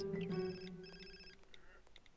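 Phone ringing in The Sims 4: a short electronic ringtone in repeated tonal bursts, with a voice talking under the start of it.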